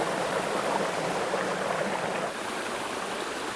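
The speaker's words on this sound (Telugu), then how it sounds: "మనం చూస్తున్న వాటర్ ఫాల్స్ వచ్చేసి" Water flows steadily at Medi Pally waterfalls near Anantha Sagar in Siddipet, a dense, even rushing wash heard close and unbroken throughout.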